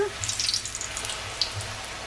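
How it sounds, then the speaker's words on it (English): Bara dough for Trinidad doubles fries in oil, sizzling and crackling steadily at a moderate level, with scattered sharp pops over a constant hiss. "So I'm going to continue frying up the rest of the baras."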